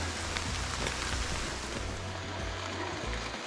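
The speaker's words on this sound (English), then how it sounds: "you know what happens when you hike in the rain?" Steady rain falls on a mountain hiking trail along the Appalachian Trail, a dense, even hiss of drops close by with no talking.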